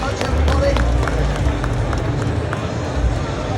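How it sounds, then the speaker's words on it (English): A large audience at a tattoo show in a big exhibition hall applauds in a dense, sustained wash of clapping mixed with crowd babble, loud and close throughout. "please leave the stage to a massive round of applause"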